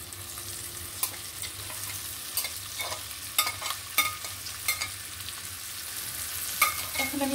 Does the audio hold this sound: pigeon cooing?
no